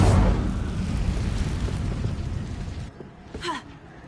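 An Incendio fire spell in Hogwarts Legacy roars out in a loud whooshing blast that rumbles for a few seconds before fading, followed by a brief crackling flare near the end.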